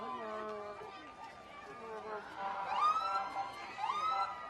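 A police siren wails with rising and falling tones at a St. Patrick's Day parade in Holyoke, amid outdoor crowd noise, fairly distant and moderately loud, with chatter around it.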